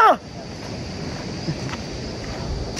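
A river rushes loudly nearby in a continuous, churning roar with some wind buffeting. A brief voice cuts in at the very start.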